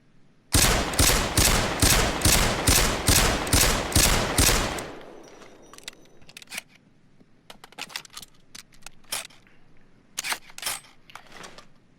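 WA2000 sniper rifle fire in Payday 2: about nine sharp, loud shots in an even rapid rhythm, then a quieter stretch of scattered clicks and light taps.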